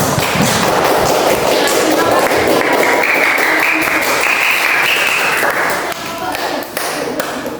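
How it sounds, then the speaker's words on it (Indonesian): A classroom of students applauds a presenting group, dense clapping sustained for about six seconds before thinning out near the end, with voices mixed in. "tepuk tangan dulu buat kelompok 4"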